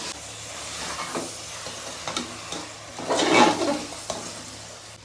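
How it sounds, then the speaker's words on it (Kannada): Biryani masala being stirred and fried in a pressure cooker, soft scraping strokes of a spoon over a low steady sizzle, with one louder burst of frying hiss midway. "ಒಂದ್ಸಲ ತಿರುಗಿಸ್ಕೊಬಿಟ್ಟು ಫ್ರೈ ಮಾಡ್ಕೊಬಿಡೋಣ."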